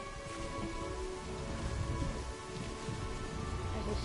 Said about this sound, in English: As the storms get heavier